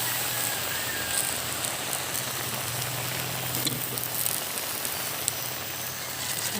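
Cabbage fries with shrimp in a hot pan, producing a loud, continuous, rain-like sizzle with scattered crackles throughout and no talking.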